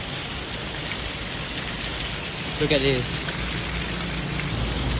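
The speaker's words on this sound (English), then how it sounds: "We got caught in the rain" Steady rain pours onto a street in Kuala Lumpur, a dense, even hiss that runs through the whole stretch, with a brief spoken remark near the middle.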